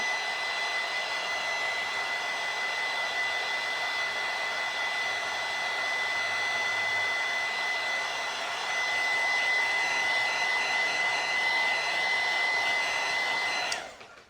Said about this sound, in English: So I'm going to use my heat gun to dry it.